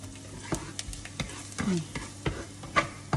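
Wild garlic and fresh shrimp are stir-fried in a pan: a quiet, low sizzle under intermittent scraping and tapping stirs close by.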